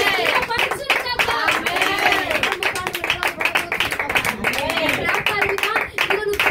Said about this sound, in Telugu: స్థిరత్వము కొరకు బిగ్గరగా చప్పట్లు కొడదామా?